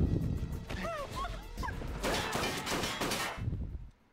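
In a scene from a TV show, a rapid burst of gunshots and crashing impacts hits an ATM, loud and close, with a voice and a brief electronic whine before it, then a sudden drop to near silence.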